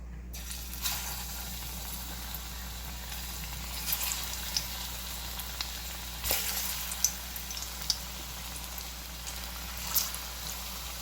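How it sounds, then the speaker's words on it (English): Ripe plantain slices frying in a pot of hot oil, a steady soft sizzle running throughout with scattered sharp pops and occasional clinks of a utensil, close and moderately quiet. "I'm gonna put them in the oil to fry."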